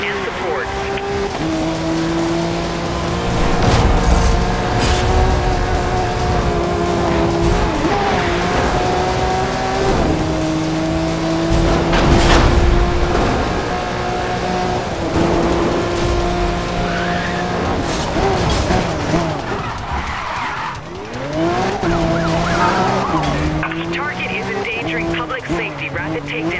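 A racing car's engine drones loudly and continuously while its tires squeal and skid through turns during a video game police chase, with revving pitch swings throughout and radio chatter in the background.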